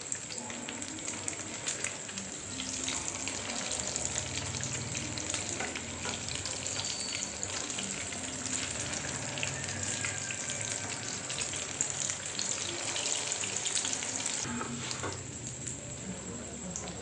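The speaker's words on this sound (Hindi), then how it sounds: "ये फ्राई हो चुके हैं।" Chicken shami kababs fry in oil in a pan, giving a continuous close hiss and crackle of sizzling that holds steady for the whole stretch, with no voices over it.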